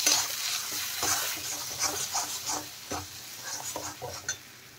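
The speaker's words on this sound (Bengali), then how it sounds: "এখন একটু নেড়ে দেব।" Ground green peas are stirred in a hot pan with asafoetida, giving a close sizzle broken by repeated rhythmic scrapes and clacks of a spatula against the pan, no voices.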